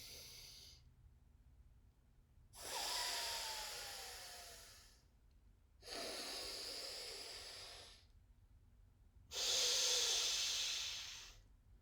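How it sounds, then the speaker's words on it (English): Alternate nostril breathing, three slow, loud, airy breaths drawn and pushed through one nostril at a time, each a few seconds long with quiet pauses between. "I will close one side and inhale from the other side, and then close other side and exhale"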